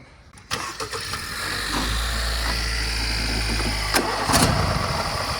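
A small car engine cranks briefly, catches, then settles into a steady near idle with a slight surge partway through, used to jump start a John Deere riding lawn mower.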